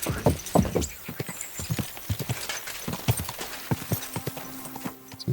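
Horse hooves clip-clop steadily across ground in the medieval video game Kingdom Come Deliverance 2, a brisk uneven rhythm of close, sharp hoofbeats with a brief whinny-like sound.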